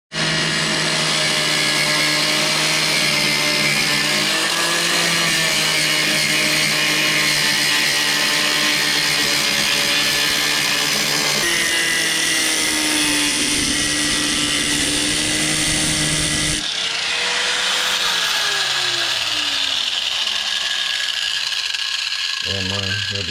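A power cutting tool slices through a car's side skirts, a loud continuous whining buzz that shifts pitch as the cut progresses, running steadily for the whole stretch.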